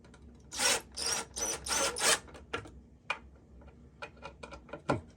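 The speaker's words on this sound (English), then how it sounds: "I'm going to screw this side in." Pocket hole screws are driven into a 2x4 wood console table in a run of short, rasping drill bursts. Smaller ticks and clicks follow, close and moderately loud with no talk.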